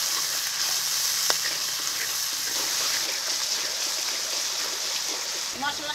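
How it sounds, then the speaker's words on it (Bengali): Spice paste with tomato, salt, turmeric and ground-spice water frying hard in a pan, a steady dense sizzle with hiss and light spatter running throughout, close and loud. "এখন ভালো করে মশলাটা কষিয়ে নেবো"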